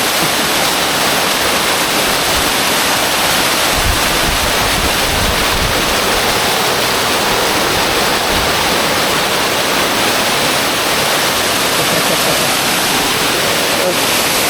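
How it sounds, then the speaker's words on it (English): Steady rushing water fills the scene, a continuous splashing flow from a small waterfall in nature, with wind buffeting the microphone now and then. "We ain't even made it to the main waterfall yet."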